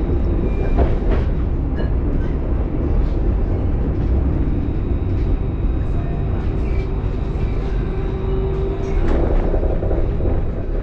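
A tram rumbles along a street in Mulhouse, passing the Banque de France on line 1 toward the central station, a continuous loud rolling rail noise with occasional squeals and clanks, no talk.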